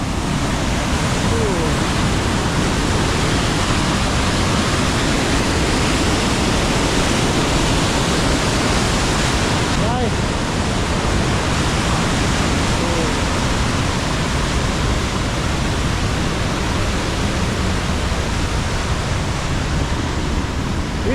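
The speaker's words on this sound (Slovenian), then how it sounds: "Spet sva pri reki." Steady, loud roar of a mountain river rushing near a high alpine lakes trail, broadband and unbroken for the whole stretch.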